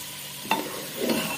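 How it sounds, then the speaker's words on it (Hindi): Ginger garlic paste fries in a pan with a soft sizzle as a spoon scrapes and stirs it twice, the sound quiet and close. "ये देखें, इसको भून लेते हैं अच्छे से।"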